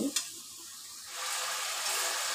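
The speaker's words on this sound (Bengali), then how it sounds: "হলুদ দিয়ে একটা আঁচটাকে সিম করে এটাকে মশলাটাকে একটু কষাবো।" Spice paste with salt and turmeric frying in oil over a low flame, a soft steady sizzle that rises a little partway through, with a brief clink at the start.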